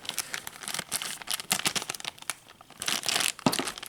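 A plastic bag holding a Schleich Desmatosuchus dinosaur model is handled and pulled open, producing close, irregular crinkling and rustling bursts with brief quieter gaps.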